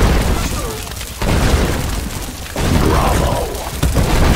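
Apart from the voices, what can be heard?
catapult siege impacts in Stronghold Crusader HD video game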